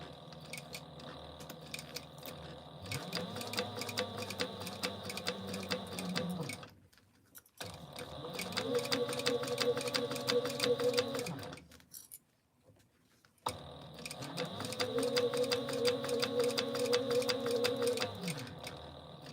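A home sewing machine top stitches a small accent piece on a child's mini scout project in three steady runs of fast, even whirring and needle ticking, each a few seconds long, separated by short pauses.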